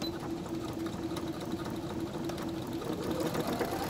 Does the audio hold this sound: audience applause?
no